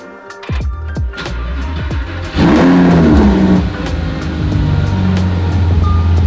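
A C4 car engine fires up with a few sharp clicks and thumps, then roars into a loud, close rev that eases back to a steady, rumbling idle, with no talking.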